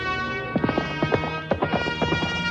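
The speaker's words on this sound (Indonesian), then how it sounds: "Mendadak dia mendengar derap kuda yang lain di jalan setapak di bawahnya." Horse hooves striking a dirt footpath in a quick, irregular run of clip-clop beats, fairly close and steady over a continuous low rumble, with no talking.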